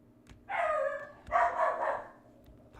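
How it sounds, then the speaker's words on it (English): A dog barks twice nearby, two loud, gruff barks spaced about a second apart over a quiet room background. "Apologize for my dog. Hope that didn't scare anybody."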